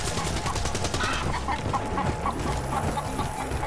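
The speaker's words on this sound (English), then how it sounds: "We got the chicken! Bring it! Bring it! This is my companion!" A chicken companion clucks in a Call of Duty: Black Ops 3 bonus arcade mode, a run of short clucks that sit close and fairly loud over a steady bed of gunfire and game noise.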